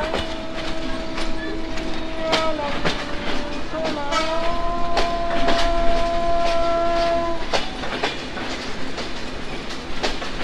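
Ruposhi Bangla Express pulls out of Jessore junction, with steady clickety-clack of wheels on rails, a long horn blast with bending tones, and rumbling carriage noise heard from inside the train.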